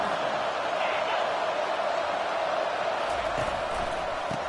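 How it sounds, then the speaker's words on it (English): Football stadium crowd at a Northwestern versus Washington game, a dense steady roar filling the air without pause, fairly loud and distant-sounding, with no clear individual voices standing out. "This crowd bringing the energy and noise early."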